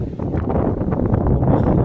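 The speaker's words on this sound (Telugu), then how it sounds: "గాలి ఎక్కువ వేస్తుంది" Strong wind at a beach buffets the microphone in a steady, loud, low roaring rumble that continues without a break for the whole stretch, with no voice heard.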